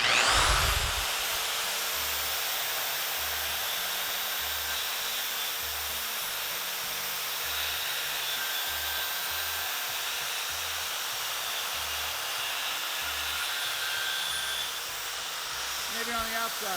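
A rotary carbide burr grinds burrs off cut metal tubing with a continuous high whine and hiss, near and steady, while a voice talks low underneath.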